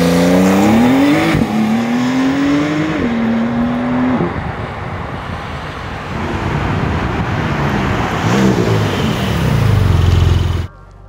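From inside the cabin, the engine of a Porsche 911 Carrera 4S (992) roars loudly, with revs climbing and falling through several pulls over road noise before cutting off abruptly.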